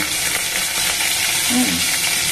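Green and dried chillies frying in hot oil, a dense, loud, continuous sizzle heard close up with faint stirring underneath.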